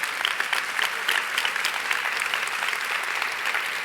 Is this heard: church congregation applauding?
yes